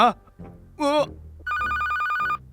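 Phone ringtone: a bright trilling ring sounds for about a second near the end, loud and close, after a short burst of voice.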